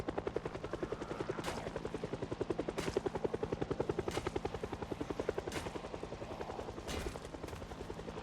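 A helicopter in Project Zomboid Build 42 flies overhead, its rotor thumping in a fast steady beat with a loud, continuous engine buzz, alone with no talk.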